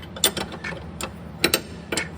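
A ratchet clicks in short uneven bursts while turning a spinning upper ball joint nut on a 2000 Chevrolet Camaro, sharp and close with small gaps between strokes.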